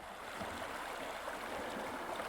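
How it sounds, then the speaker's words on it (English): Steady roaring rush of river rapids at a 16-foot cataract on Beaver Creek, Alaska. The churning whitewater runs continuous and even, with no voices over it. "That's a 16-foot cataract."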